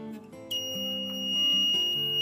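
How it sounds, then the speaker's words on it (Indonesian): A 30V 8A adjustable lab bench power supply sounds its short-circuit buzzer, a shrill continuous electronic tone that starts abruptly and stays steady over a humming, shifting background tone. "Nanti buzzer akan bunyi."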